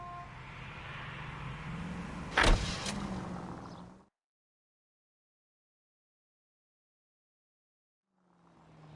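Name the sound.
car driving in video game L.A. Noire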